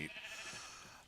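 A single short sheep bleat from Minecraft, a faint wavering cry lasting about a second at low level.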